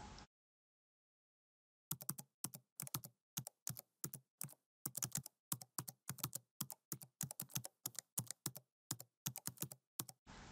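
Someone types a subtitle into a PowerPoint text box on a computer keyboard. After a short silent pause come close, crisp keystrokes in quick irregular bursts, with no talking.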